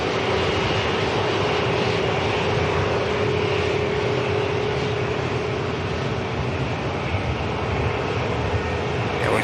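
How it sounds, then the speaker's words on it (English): An Aer Lingus A320 airliner taxis past at Manchester Airport, a loud steady jet engine roar with a sustained whine running unbroken for nearly ten seconds. "Aer Lingus 320 for Dublin taxiing past as well."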